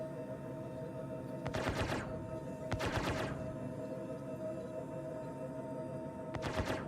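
Gunfire in the video game Star Citizen comes in three rapid bursts of shots over a steady low hum, moderately loud and with no talk between them.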